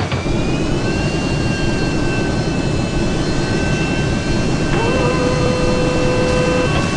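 A loud, steady jet engine roar of a diving airplane fills the whole stretch, with whining tones and a sustained rushing drone, no pause or let-up.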